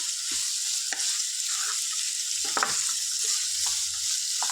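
Broad beans fry in an oiled pan, making a constant bright sizzle with several short scraping stirs and clinks of a spoon against the pan; nobody speaks.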